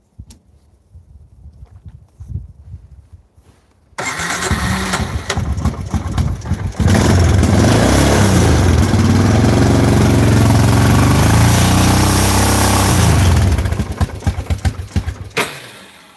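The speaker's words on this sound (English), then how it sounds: "Let's show him the quad, dude. We'll start it up for him, Michael." A quad ATV engine cranks and catches, then runs loud and close with a rough, uneven idle while the choke is on, settling after about ten seconds; faint talk and handling noise come before it starts.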